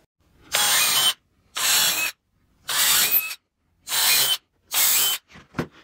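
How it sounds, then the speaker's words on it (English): A power drill with a drill bit and countersink combo whines loudly in five short bursts separated by pauses, biting into wood boards, followed by a couple of quick softer clicks. "I'm going to take my drill with a drill bit and a countersink combo unit, and I'm going to drill"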